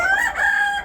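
A desi rooster on a poultry farm crows once, a loud, close, drawn-out call with a brief break in the middle, heard alone.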